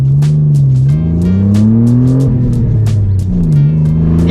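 A Renault Clio V6 engine revs hard and steadily, its loud, rich drone rising and dipping in pitch as the throttle swells, close and dominant throughout.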